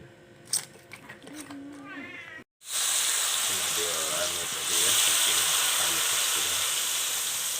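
Flour-coated bananas fry in hot oil with a loud, steady sizzle that fills the second half. A cat meows close by before the frying and again during it.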